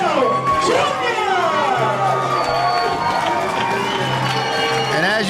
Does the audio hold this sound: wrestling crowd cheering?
yes